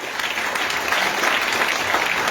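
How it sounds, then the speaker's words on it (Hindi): An audience at a business training event claps loudly and continuously, a dense wash of applause with no talk over it. "जोरदार ताली बजाइए।"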